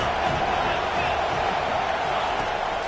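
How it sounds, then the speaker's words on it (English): A roaring stadium crowd in a college football video game holds a steady, dense wash of noise for the whole stretch, with a broadcast commentator's voice over it. "This crowd trying to make life miserable for this offense."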